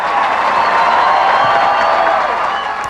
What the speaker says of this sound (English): there was applause.